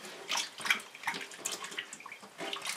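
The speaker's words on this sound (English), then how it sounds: "Usually I rinse it twice just to make sure." Yam being rinsed in water, with splashing and sloshing in irregular bursts, close and moderately loud, no voices.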